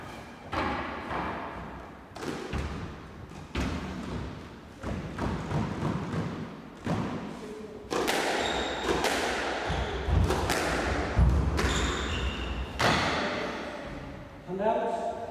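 Squash ball struck and thudding off the walls in quick-fire rallies during a professional women's match at the Scottish Squash Open, a rapid series of sharp impacts and squeaks over crowd murmur and commentary talk.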